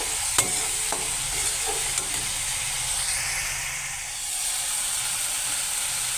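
Ground turmeric, chilli, cumin and coriander powders frying and being stirred in a pan for an egg curry. The sizzle is loud and steady, with a few scraping strokes of the spoon near the start.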